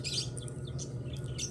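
Pet birds chirping in quick high repeated calls over a steady low hum, several short tweets overlapping throughout.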